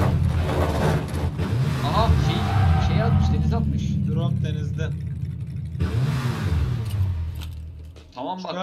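A car engine in the video game PUBG revs up and down, with rising and falling whines over a steady low rumble, close and loud, while people talk over it.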